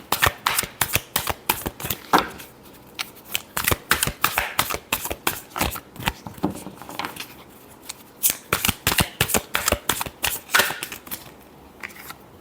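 Tarot cards shuffled by hand, with rapid crisp riffling bursts and papery slaps in uneven clusters, close and clear, with no talk.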